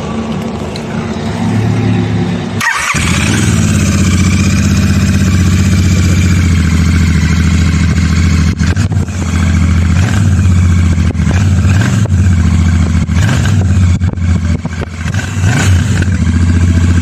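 A vintage vehicle engine cranks and catches, then settles into a loud, close, rough idle with repeated revs and some clattering throughout, with no talk over it.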